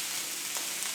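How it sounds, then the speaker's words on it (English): Burgers sizzle in a hot pan, a steady hissing crackle that is close and fairly soft and lasts only about a second. "we're going to pop the burgers in, and you're looking for that nice sizzle"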